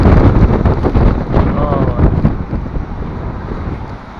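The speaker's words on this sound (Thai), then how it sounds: "ตอนนี้ลมแรงมากนะครับบริเวณนี้มันเป็น ยอดเขาด้วยนะครับ" Strong wind buffets the microphone on a rainy, cold mountain top during a long-distance motorbike trip in Thailand, a loud continuous low rumble that eases slightly toward the end. Someone speaks under the gusts.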